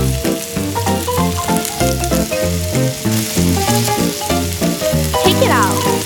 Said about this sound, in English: We fry it until golden on both sides.